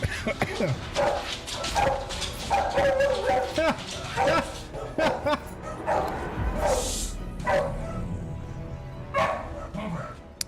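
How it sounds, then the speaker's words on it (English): A dog in a Monster Hunter Wilds stream barks and yips repeatedly, close and loud, with whimpers between, while a person talks over it. "Sorry about the barking, by the way,"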